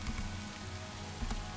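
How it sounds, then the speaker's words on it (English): Rain falls steadily in Minecraft with the Minecolonies mod, a dense even hiss of drops on surfaces continuing without a break, no voices over it. "It's raining."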